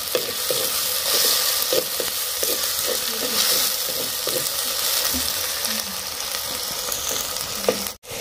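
Onions frying and sizzling in a clay pot for chicken masala, a steady close crackle with intermittent scrapes and stirs, ending in a brief sharp knock.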